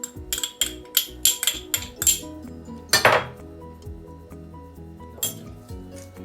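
A spoon clinks and scrapes against a bowl while chilli, garlic powder, ginger powder, chopped garlic and paprika are mixed for a lobster marinade, a quick run of bright metallic taps, then one louder clatter and a few scattered clinks.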